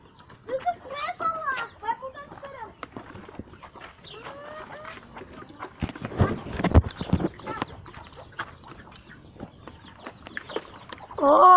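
A broody black hen clucks softly nearby with her chicks among other farmyard sounds and hoof-like clops, while people talk intermittently throughout.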